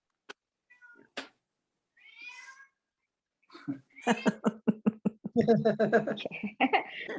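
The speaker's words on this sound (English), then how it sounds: "I got a needy cat in the background in case anybody's wondering about it." A needy cat meows indoors, first a few sparse, hesitant calls and then a rapid run of loud, insistent meows that crowd together toward the end.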